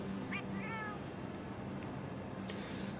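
Palico cat companions in Monster Hunter World meow in a few short, high, rising calls over a steady game background hum, with a soft voice briefly audible.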